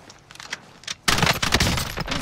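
Video game gunfire erupts in a dense, loud burst of rapid automatic shots after a quieter stretch of scattered clicks and faint sounds, with no talk.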